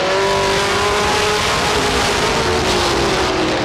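Race cars at a short-track speedway roar off the corner under hard acceleration, a dense, loud engine wail that climbs steadily in pitch as the pack pulls away, with no voices.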